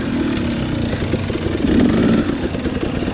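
KTM XC dirt bike engine running in third gear on a fast, flowy trail, a steady loud buzzing drone with slight swells in revs, heard close from the rider's position.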